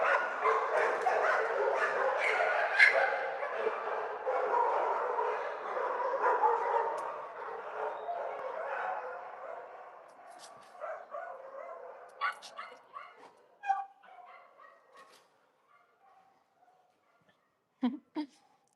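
A dog barks and whimpers from its kennel, starting under a continuous stretch of talk and then giving sharp, separate yips and barks near the mic as the voices fade.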